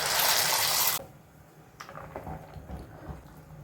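A pot of salted boiling water holding pasta gives a loud rushing hiss for about a second, then settles into soft, irregular bubbling and crackling.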